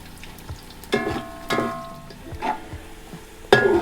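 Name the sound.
frying with onions in a pot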